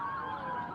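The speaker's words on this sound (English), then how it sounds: "We have some sirens behind us now." Emergency vehicle sirens wail steadily from a short distance behind a news reporter at a roadside scene, a continuous high tone without talk.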